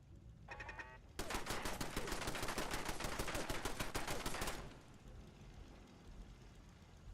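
Sustained automatic gunfire aimed at a turret in Fallout 4, a rapid burst of evenly spaced shots lasting a few seconds, loud and close, with a brief mechanical clatter just before it starts and a fading echo after.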